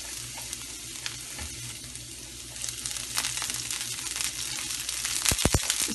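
Chopped garlic sizzles steadily in a tablespoon of hot oil as the base of a homemade BBQ sauce for chicken wings, a continuous close frying hiss with a few sharp spits and stirring knocks toward the end.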